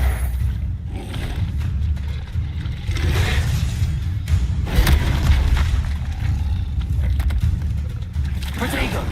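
In the Hogwarts Legacy video game, Incendio fire spells are cast repeatedly, loud whooshing bursts and booming flares rising out of a dense wash of combat effects, heard alongside spoken spell incantations.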